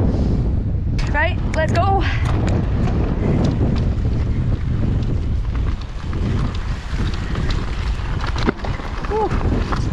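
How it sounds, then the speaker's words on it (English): Strong wind on a high mountain pass in the Cairngorms, Scottish Highlands, during a mountain bike ride roars steadily across the microphone with constant buffeting, while someone speaks briefly over it. "it's got crazy windy, as I said"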